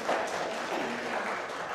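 An audience claps after a live flute performance, a dense, steady patter of many hands close by, filling the short stretch without a break.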